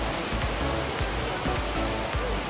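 Artificial waterfall at an outdoor sculpture park and herb garden in Boryeong, Korea, pouring as a steady, dense broadband rush of falling water with no voices over it.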